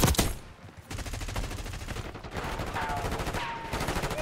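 Rapid bursts of gunfire from the Black Ops 6 video game, loud and repeated in clustered volleys under a continuous layer of game noise.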